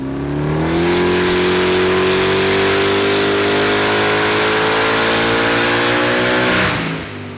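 A de-stroked LS-based drag car engine with new crank, rods and pistons revs up and holds a loud, steady, harmonic roar for several seconds before dropping off sharply at the end, recorded close by.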